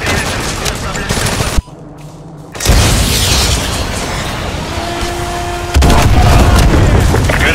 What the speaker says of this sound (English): AGM missiles online.